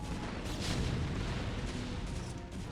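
Siege tanks in StarCraft: Brood War fire in a rapid series of dull, booming artillery blasts that blur into a continuous rumbling barrage, moderately loud with no speech.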